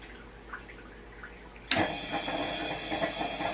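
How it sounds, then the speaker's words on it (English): A sudden burst of air hisses through an aquaponics airline after the pump is switched off, with a sharp onset following a quiet stretch, then continuing as a steady, gurgling rush. "Sending an air blast."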